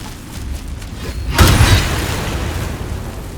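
A booming blade strike against an elemental in Baldur's Gate 3 lands as a single heavy boom with a crackling burst midway, then a rumbling tail that fades, preceded by quiet ambience.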